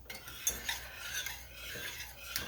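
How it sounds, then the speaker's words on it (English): A spoon scrapes and swirls through cream, butter and sugar heating in a pot, a soft continuous rasping with small clinks against the metal, close and unhurried with no voices. "So I'm going to go ahead and continue to stir this because we don't want this to burn at all."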